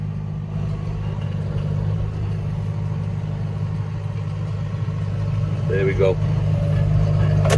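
Farm tractor engine held at steady high revs, PTO at 540, while baling haylage in a field, a loud continuous drone throughout with a brief spoken remark near the end.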